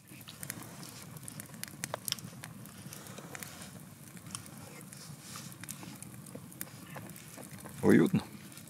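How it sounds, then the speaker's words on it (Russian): A campfire burns on a wilderness hike through Sarek, Padjelanta and Rago after rain, giving a faint, steady crackle and rustle under ambient noise, with a brief louder pop near the end. "нам костер разжег сегодня."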